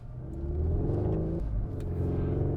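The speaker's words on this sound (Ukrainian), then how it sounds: "підтинає нижчі передачі, робить перегазовки" A Cupra Formentor engine revs up quickly and drops back, a throaty exhaust blip during a downshift, then settles into a steady rumble.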